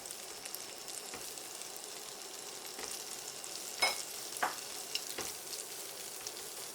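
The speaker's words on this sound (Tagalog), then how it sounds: "Then, magigisa tayo ng bawang." Garlic sautéing in a pan for a dish of pompano with black beans and tofu, a steady close sizzle of frying with occasional stirring scrapes, no talk.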